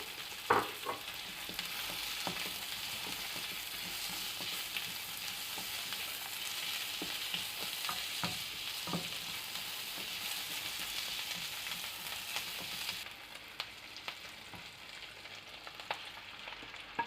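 Garlic stir-fries in a pan for a beef dish, giving a steady, close hiss of sizzling oil broken by sharp scraping stirs and clicks of the utensil, the sizzle easing slightly near the end.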